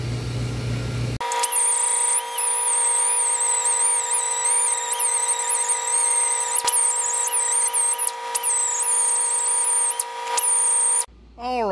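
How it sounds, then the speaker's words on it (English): A die grinder cleaning a Cadillac 472 valve cover, a loud, close, high-pitched whine running almost continuously, with brief dips and wavering pitch as it bites into the metal. "that's about as good as I can get it with the die grinder"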